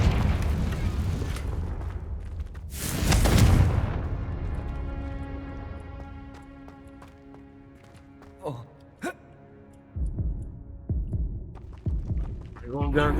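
Confringo blasting spells go off in the Hogwarts Legacy video game. One big rumbling boom dominates early, followed by smaller sharp impacts and crackles, while a person talks over the game sounds.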